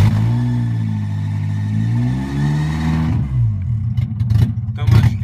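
A Nissan KA24DE engine in a half-ton truck runs with a steady droning note that sags and wavers unevenly, then breaks into rougher, louder revving bursts near the end.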